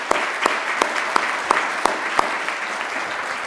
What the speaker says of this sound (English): will you give me a round of applause for them?